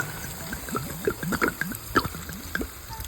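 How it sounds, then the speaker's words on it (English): Water poured into a soup pot for cucuzza soup, heard as an uneven run of splashes and gurgling drips with irregular bright blips rising and falling, fairly close, no talking. "And then we're going to put in some water."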